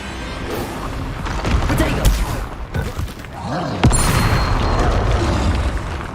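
A Bombarda spell blast from Hogwarts Legacy, deep booming explosions with crashing debris rolling under continuous game noise and combat effects, loud and close.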